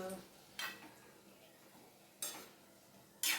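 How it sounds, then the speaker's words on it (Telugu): Chopped onions stirred in a cooking pan for an Andhra greens and tomato curry: three short, quiet scrapes of a utensil against the pan, spaced apart over a faint background. "తరిగి పెట్టుకున్న ఉల్లిపాయలు కూడా వేసి బాగా కలపాలి"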